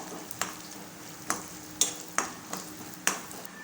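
Urad dal, chana dal and asafoetida tempering in hot oil, with a faint steady sizzle under sharp, repeated scrapes and clinks of a spoon stirring in the pan, close by.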